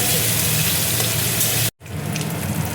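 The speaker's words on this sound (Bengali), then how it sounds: "তেলের মধ্যে দেখো নারকেল কুচি আমি দিয়ে দিচ্ছি, এবার আমি ভালো করে ভেজে নেব" Grated coconut frying in oil for patty filling, a loud dense hiss of sizzling that cuts out briefly, then resumes slightly quieter, close and without talk.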